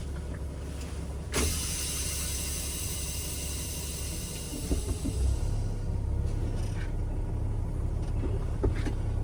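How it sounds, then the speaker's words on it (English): A truck on a Class B air brakes test creeps forward and brakes to a full stop, a low engine rumble carrying on with a sharp air hiss early on and small mechanical clunks near the end. "I'm gonna move my truck forward about 5 miles per hour and make sure the truck comes to the complete stop"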